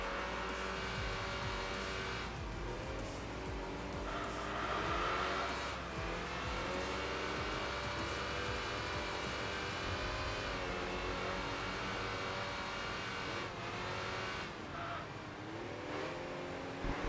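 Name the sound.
race cars in video game Enthusia Professional Racing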